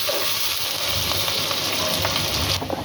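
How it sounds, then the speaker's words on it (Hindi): Onions fry until lightly browned in hot oil, giving a dense, loud and continuous sizzle heard close up, with faint stirring knocks that briefly thin out near the end. "तो प्याज को लाइटली आपने ब्राउन कर लेना। अच्छे तरीके से भून लेंगे।"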